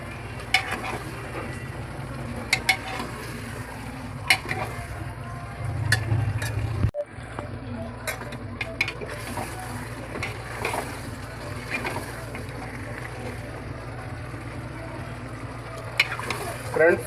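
Mutton with turmeric being stirred and fried in a pan, with a continuous sizzle and repeated clinks and scrapes of the spoon against the metal, close and fairly loud.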